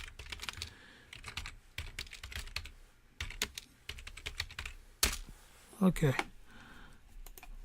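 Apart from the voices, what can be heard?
typing on a computer keyboard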